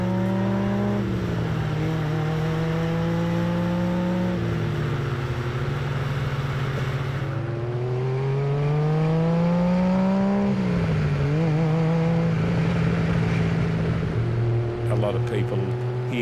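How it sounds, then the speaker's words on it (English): A Ferrari 275 GTB/4 engine revs through the gears, a loud, close, rasping note that climbs in pitch, drops at each shift and climbs again, with a brief lift-off in the middle. "I'll drop it back through the gears, back to third, fourth, up to fifth, and you can really hear the car perform as it likes to."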